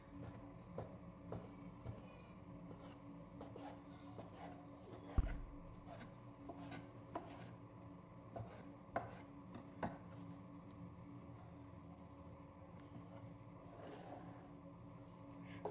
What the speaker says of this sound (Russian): И вновь режем соломкой